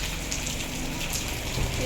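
Steady June rain patters on a surface close by, a continuous wash of drops lasting under two seconds with no talk.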